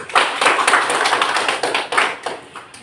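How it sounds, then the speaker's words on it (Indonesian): A small audience at a teacher-training performance assessment claps together, a few seconds of dense, uneven handclaps, close and fairly loud, with no speech. "Berikan tepuk tangan dulu"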